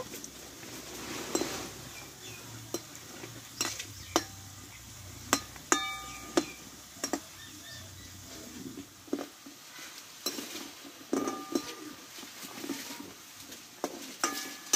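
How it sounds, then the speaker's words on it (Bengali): Homemade sweets frying in oil over high heat and being turned, with sporadic clinks and scrapes of a utensil against the pan over a soft, low sizzle. The sound is close and fairly quiet, and no one speaks. "এবার উনানের আঁচটা এবার হাই রেখে আমি লাল লাল করে মিষ্টিগুলোকে ভেজে নেব"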